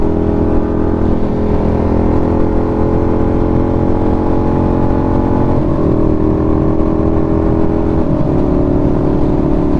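A Suzuki SV650X motorcycle engine drones steadily while riding at around 7,000 RPM, a loud continuous buzz with a couple of brief pitch dips, no speech over it.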